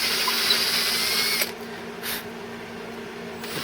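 A drill bores tuner holes through a varnished guitar headstock on a Strat-style tribute build, giving a loud steady whine that cuts off abruptly partway through, followed by a brief short burst and a quieter hum.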